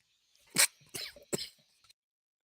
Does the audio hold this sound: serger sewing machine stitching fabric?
no